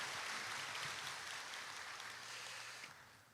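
Church congregation applauding during a Sunday morning worship service, a steady faint wash of many hands clapping that continues throughout and fades slightly toward the end.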